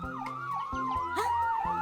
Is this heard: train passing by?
no